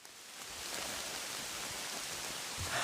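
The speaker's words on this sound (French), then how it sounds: "Hike out in the rain." Steady rain hisses around a hiker on a mountain trail loop, an even wash of drops close by with faint crunches underfoot near the end.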